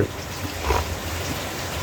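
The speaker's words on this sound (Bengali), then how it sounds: "হঠাৎ করে দেখছো কেমন বৃষ্টি শুরু হইলো আজকে" Sudden out-of-season rain pours outside, a broad steady hiss of falling water, loud and unbroken with no voices.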